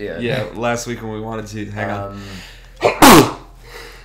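A person talks briefly, then after a pause lets out a single sharp, loud sneeze close to the microphone.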